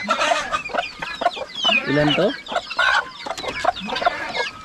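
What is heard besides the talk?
hen clucking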